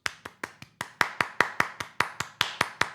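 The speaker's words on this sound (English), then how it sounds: "3-second round of applause." Hands clap in a quick, steady rhythm for about three seconds, roughly a dozen and a half crisp, close claps evenly spaced with no talking.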